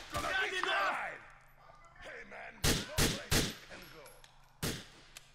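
Gunshots ring out in Grand Theft Auto IV: four or five sharp, loud cracks spaced irregularly in the second half, after a stretch of speech at the start.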